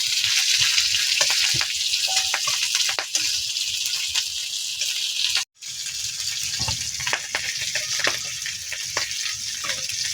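A fish head fries in oil in a pan, giving a loud, continuous sizzle with crackling spatters that drops out for a brief moment midway before the frying resumes.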